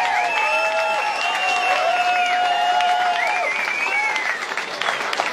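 Sustained applause from a crowd at a music night concert, steady and full throughout, with tonal feedback or instrument tones ringing above it and a slight fade near the end.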